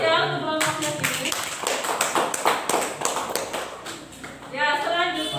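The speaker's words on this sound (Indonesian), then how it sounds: "Beri aplaus ya untuk kelompoknya Dini." A classroom audience applauds a group presentation, with dense rapid clapping that runs for several seconds before fading, and voices speaking at the start and end.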